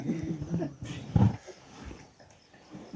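A voice imitates a dog's barking over a phone call, giving a few rough, growly bark-like yelps with one louder burst in the middle, set among low mumbled vocal sounds.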